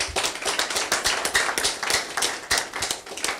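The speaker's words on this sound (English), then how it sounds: "Can we give her a round of applause?" A round of applause from an audience in a hall, heard as fairly quiet, uneven clapping with distinct individual hand claps.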